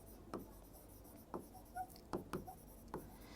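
Chalk or a marker taps and scrapes against a board in short, separate strokes, roughly five or six of them, faint and close, while a teacher writes out an English sentence-transformation example.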